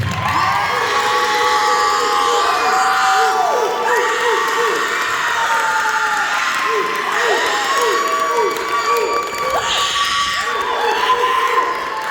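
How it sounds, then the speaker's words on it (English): Loud, sustained audience applause with cheering and whoops fills a band banquet hall honoring the year's top student officers, steady throughout without any talk over it. "another round of applause for this year's top officers."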